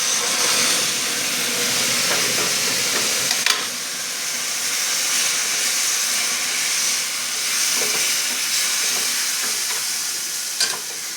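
Boiling water being poured into a curry spice mix in a pan with jackfruit, giving a steady, loud sizzling hiss that holds for about eleven seconds, broken by a few brief sharp crackles.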